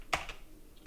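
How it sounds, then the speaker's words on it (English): A few quick keystrokes on a computer keyboard while entering a Linux command: two close clicks, then another a moment later, crisp and near against quiet. "So we're gonna type EXA"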